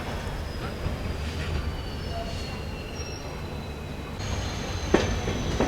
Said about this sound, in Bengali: আমার ট্রেন ছেড়ে দিল নিউ জলপাইগুড়ি রেলওয়ে স্টেশন থেকে।